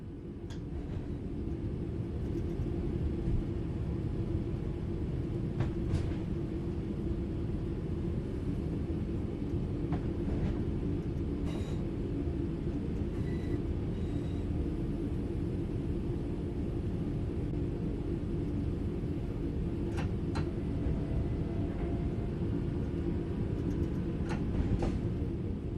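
A train in Train Sim World 4 coasting on level ground with the throttle closed gives a steady low rumble that holds evenly throughout, broken now and then by faint ticks and clicks above it.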